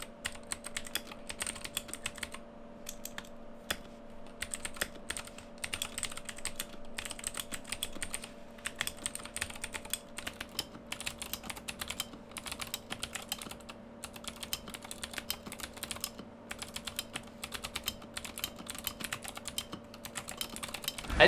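Clicky switches on a Womier GamaKay K66 RGB mechanical keyboard fitted with Razer PBT keycaps, typed in a fast, steady stream of sharp, close-up clacks with no talking.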